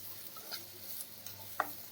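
Okra sautés softly in oil for okra rice, a low sizzle with light scraping and occasional ticks from a stirring utensil in the pan.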